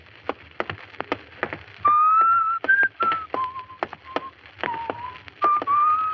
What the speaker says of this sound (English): Stop whistling that.